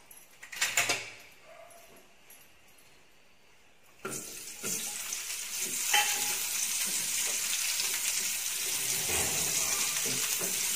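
Oil heating in a hot kadhai for roasting chole masala spices, a few handling knocks and a quiet stretch before a loud continuous sizzle breaks out and carries on steadily to the end.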